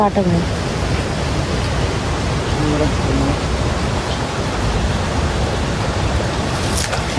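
A constant, loud rushing of river water fills the whole clip, dense and unbroken like a nearby stream in full flow.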